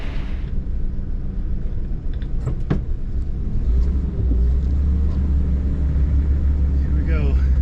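A 36-year-old Toyota Land Cruiser 60 Series rolls along with a low, steady engine rumble close by, its drone growing heavier and fuller partway through, with a few brief knocks and clatters along the way.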